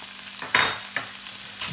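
Rice with melted butter and soy sauce hits a hot pan, giving a few bursts of sizzle and scraping as it is stirred, loud and close with short pauses between.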